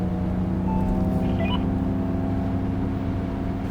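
An electric Ford Mustang Mach-E in its Untamed drive mode produces a steady artificial driving sound, a low, even engine-like hum with layered tones, heard alone without talk.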